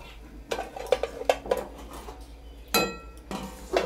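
A lid placed on a cooking pot on the stove, several close metallic clanks and clinks at uneven intervals, with a louder clattering knock near the end.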